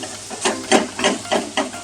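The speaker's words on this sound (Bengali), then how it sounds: "সমস্ত মশলা আমি ভালো করে ভেজে নেব।" Spices fry in oil for potol chingri, a Bengali pointed gourd and prawn dish, as a soft sizzle under about five rhythmic, evenly spaced stirring scrapes, close and clear.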